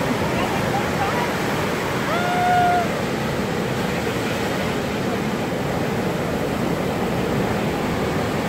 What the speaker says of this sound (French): Fais attention, là il y a de l'eau qui arrive.